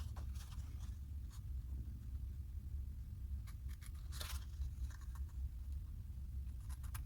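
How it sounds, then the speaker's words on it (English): Scissors snipping a small square out of paper at a desk, a soft steady crunch and scrape with a few brighter cuts, close and fairly quiet over low room hum. "I'll cut this little square out"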